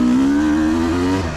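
2004 Kawasaki KX250 two-stroke motocross bike on a mountain trail, its engine giving a brief, close, steady buzzing drone that trails off slightly at the end.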